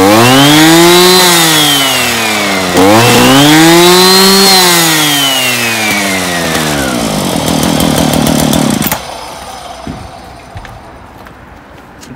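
A Husqvarna 545 RXT brush cutter engine runs loud and close, its pitch rising and falling as the throttle is revved twice and then dropping to idle before quieting.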